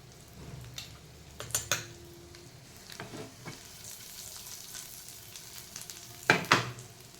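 Potatoes roast in oil in a pan over medium heat, giving a soft steady sizzle broken by a few louder scraping stirs and clinks of a spoon against the pan, with no talking.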